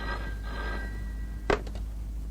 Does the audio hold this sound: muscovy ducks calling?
no